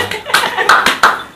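An audience claps in short, close bursts during an Indonesian Mother's Day podcast, with a voice and a little laughter mixed in.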